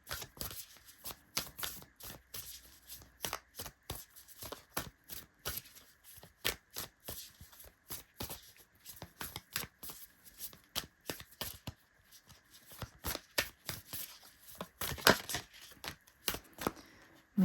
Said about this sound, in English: I promise you I have shuffled the deck because I shuffle in between readings anyway